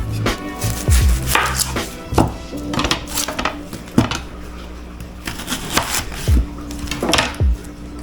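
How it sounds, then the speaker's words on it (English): A sharp knife thinly slices an onion on a cutting board, producing a series of crisp, close chops in irregular bursts, with clattering board knocks between strokes and no talking. "what we're going to do with the onion is just thinly slice it"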